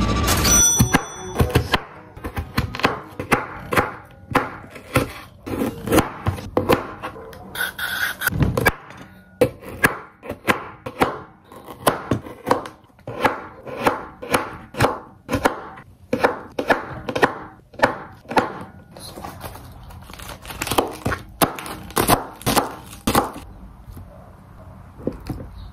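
Steady knife chopping of vegetables and tofu into small pieces on a wooden board, quick rhythmic thunks in runs with brief pauses, close and crisp with no talk over it.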